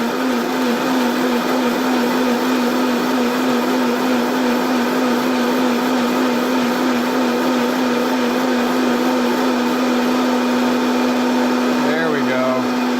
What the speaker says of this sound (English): I'm gonna get my handy dandy Vitamixer. I'm gonna blast this thing.